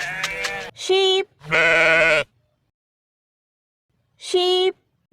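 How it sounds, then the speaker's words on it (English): Sheep bleat three times up close, loud wavering calls in two quick bursts followed by a pause and then one more bleat, with no talking. "Sheep."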